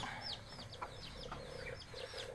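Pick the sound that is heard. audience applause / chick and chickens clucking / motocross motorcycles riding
chick and chickens clucking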